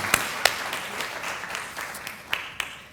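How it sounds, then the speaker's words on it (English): Applause from graduates and guests at a nursing pinning ceremony, a steady crowd clapping with several sharp, close individual claps popping out above the wash. "So give yourselves a round of applause."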